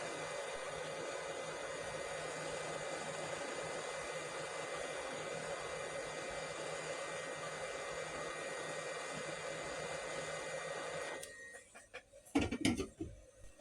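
A hot air gun blows a steady, even hiss while heating an IC on a Samsung LCD TV board, then cuts off near the end, leaving a few light clicks and handling knocks.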